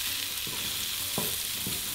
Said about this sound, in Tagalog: Itutuloy ko lang ang pag-isa hanggang sa maging malambot na yung sibuyas.